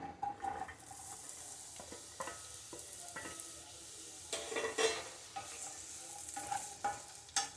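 Large chunks of onion and capsicum frying in oil for kadai paneer, a soft steady sizzle broken by repeated stirring scrapes and light clinks of a spoon against the pan, close and fairly quiet.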